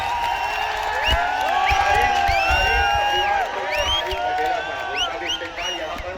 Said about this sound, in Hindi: पुरजोर तालियों में इस्तकबाल करें।